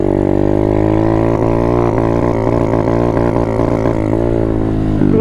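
An Apollo 125 RFZ Chinese dirt bike engine runs with the choke on, a loud close drone that wavers and stumbles as it hesitates at higher revs under throttle.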